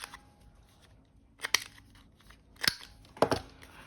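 Scissors cutting a sheet of paper in half while setting up a journal page: three or four crisp, close snips spaced about a second apart, with quiet pauses between them.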